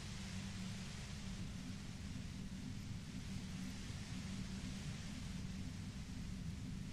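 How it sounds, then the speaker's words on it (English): Steady, even white noise in the game Disco Elysium, a dull, unbroken hiss with a heavy low rumble that holds at the same level the whole time, with no other sounds over it. "You hear through the white noise."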